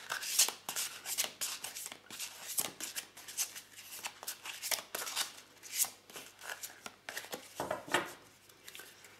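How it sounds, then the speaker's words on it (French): Tarot cards being drawn and shuffled from a deck, with soft papery slides, flicks and taps in an irregular close-up rhythm, and no voice over the handling. "Alors on va tirer encore une carte dans chaque colonne."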